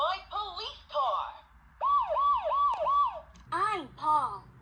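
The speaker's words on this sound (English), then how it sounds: "This is my police car." A toy police car siren plays loud and close, cycling through warbling wails and rising-falling whoops in several short bursts.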